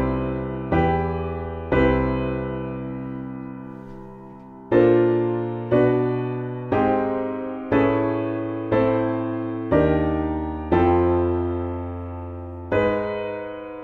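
Chord progression built from major seventh chords, played as a series of struck sustained chords, about a dozen at a steady pace with each one ringing and fading, alone with no talk.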